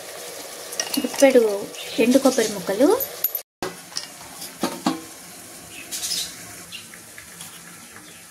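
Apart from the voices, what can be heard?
vegetables frying in a pan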